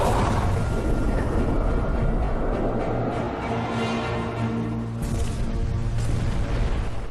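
Torpedo strikes exploding against a convoy ship in the Atlantic, heard as a sustained loud roar of blasts and rumbling with bursts of impact noise throughout, no voices.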